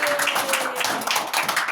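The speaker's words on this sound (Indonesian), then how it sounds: "Boleh tepuk tangan buat Queen." Rapid, dense clapping from children in a classroom, steady and continuous throughout, with faint voices mixed in.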